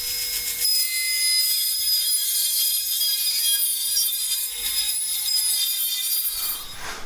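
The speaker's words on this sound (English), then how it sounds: "I'm going to rip the reinforcing wood beams down to 3 1/4 inch wide" A power saw rips reinforcing wood beams lengthwise to narrow strips for a metal shed roof support, a steady loud whine running almost unbroken for about six seconds before winding down.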